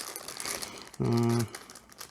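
Plastic bag crinkling sharply as a SW3516 charging circuit board is unpacked from it, one short burst of rustling about half a second long against a quiet room.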